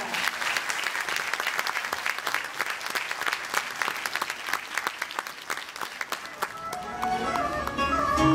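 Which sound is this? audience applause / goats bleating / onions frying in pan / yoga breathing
audience applause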